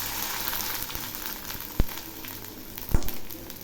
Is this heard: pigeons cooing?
no